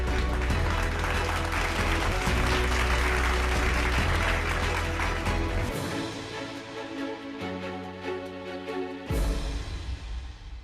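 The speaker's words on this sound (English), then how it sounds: "Big round of applause to our winner, Pernod Ricard India." Sustained applause from a large audience at a corporate HR excellence awards ceremony, honouring the award winner Pernod Ricard India; dense, even clapping that fills the room and eases slightly toward the end.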